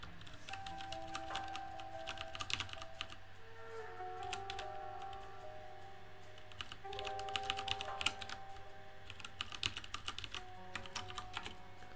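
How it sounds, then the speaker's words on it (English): Fingers tap steadily on a computer keyboard, producing quiet, irregular clicks in short bursts over a faint steady hum, with no one speaking. "we're just doing the old little finger typing exercise"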